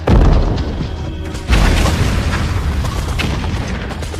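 Heavy gunfire and booming blasts from a war movie battle fill the whole stretch, with a fresh loud burst about halfway through and dense rumbling explosions throughout. It is loud and close, with no talk over it.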